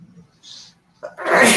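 A quick breath in, then one loud, close sneeze bursting out at the end.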